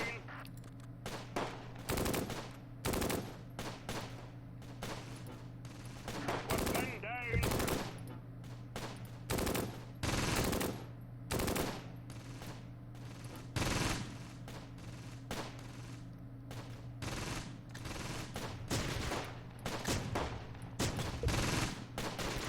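Bursts of machine-gun and rifle fire in the WWII strategy game Close Combat Gateway to Caen crackle throughout, coming in rapid clusters with brief gaps, alternately loud and distant.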